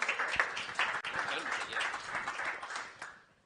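Audience applause for a NATO panelist at a defense policy panel, a dense spread of clapping that carries steadily for about three seconds before fading out, with faint voices mixed in.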